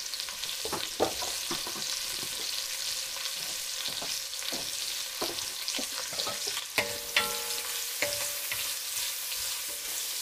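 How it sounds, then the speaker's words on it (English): Onion slices frying in a pan while being stirred: a constant bright sizzle fills the clip, broken by repeated scraping and clinking strokes of the spoon against the pan, close and fairly loud, with no talk. "I'm giving it a bit of a stir to break up the onion slices."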